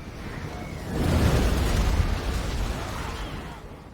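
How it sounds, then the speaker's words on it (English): An artillery explosion from a Total War: Warhammer battle swells into a heavy, booming blast about a second in, then rumbles down over the next few seconds. "we are going to get peppered by this artillery for a little bit"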